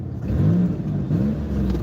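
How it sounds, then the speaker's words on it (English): A car engine with a hole in its muffler drones and revs steadily, giving a close, continuous rumble with slight rises in pitch and no talking. "My muffler's got a hole in it. You can hear that, listen."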